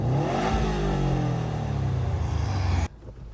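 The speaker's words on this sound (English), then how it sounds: "I love the warble of a flat 4 boxer engine." Subaru WRX STI flat-four boxer engine revs hard in a loud, close, warbling rumble that climbs and holds before cutting off abruptly near the end, with no talking.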